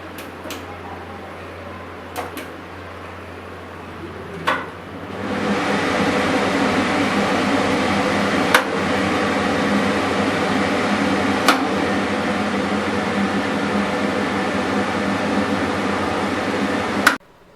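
An INALSA Enya kitchen chimney range hood starts up and runs with a steady, loud broadband whoosh and motor hum that continues without letup, broken by a few faint clicks.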